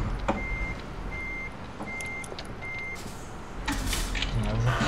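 A truck in Euro Truck Simulator 2 sounds its reversing alarm, four evenly spaced beeps over a steady engine drone, followed by a hiss and rising engine noise.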